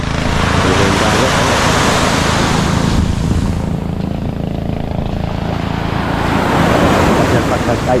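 Sea waves roll and wash steadily at a seaside fishing spot, loud and close, mixed with wind buffeting the microphone for the whole stretch.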